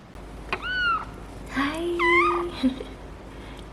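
A Bengal cat gives two distinct meows, the second longer and drawn out, close and clear over a quiet room.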